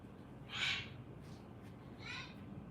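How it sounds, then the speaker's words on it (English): Angry cockatoo squawking, two harsh loud screeches about a second and a half apart over a low room hum. "Parrot is mad."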